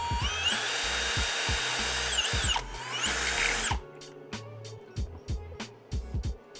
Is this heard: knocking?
no